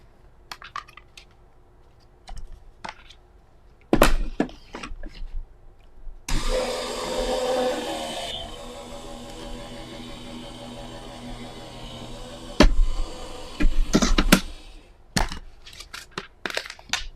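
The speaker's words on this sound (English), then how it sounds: "And I will die cut that one." A Spellbinders die cutting machine cutting paper runs as a steady grinding, crushing pass of several seconds, with sharp clicks and handling knocks before and after.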